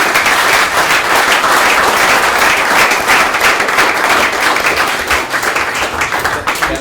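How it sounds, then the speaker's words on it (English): A conference audience applauds loudly and steadily for two guest speakers, a dense, close wash of many hands clapping that holds at full strength throughout with no talk over it. "Guys, can we give these 2 gents a huge round of applause?"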